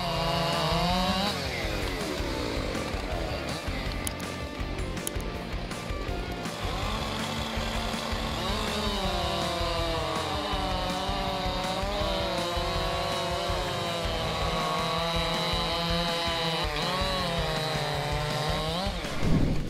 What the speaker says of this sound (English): Let's see the competition between Husqvarna 592 and Style MS661, leading chainsaws famous for their power and precision